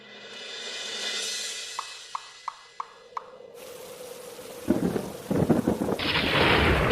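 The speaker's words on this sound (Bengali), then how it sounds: "এই তো ঝড় বৃষ্টি শুরু হয়ে গেল" Steady rain hisses, then a deep thunder rumble rolls in and the downpour grows heavier and louder toward the end.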